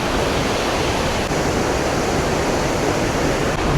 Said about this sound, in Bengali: উপর থেকে যে পানি পড়ছে না, পানি পড়ার পর পানিগুলো ছিটে বাতাসের সাথে আশেপাশের এলাকায় ছড়িয়ে যাচ্ছে